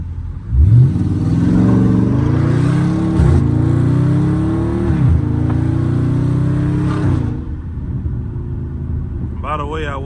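A Dodge Scat Pack car accelerates from brake to gas on a late-night drive, its engine rising in repeated revving sweeps, loud and close inside the cabin, with someone talking over it.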